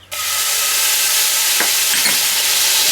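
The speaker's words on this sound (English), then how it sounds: "Then we're going to add in 5 cloves of minced garlic" Five cloves of minced garlic hit hot olive oil in a pan and sizzle at once. The frying hiss is loud, close and continuous, with a couple of faint stirring scrapes.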